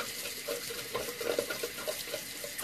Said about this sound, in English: This water is taking forever to heat up.